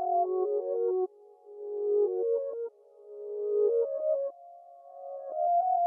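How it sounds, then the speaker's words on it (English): Reversed sine-wave synth pad playing a sequence of soft pure tones that swell upward in volume and cut off abruptly, in four rising phrases, clean and alone. "The first one I want to go through is this reverse sine pad thing."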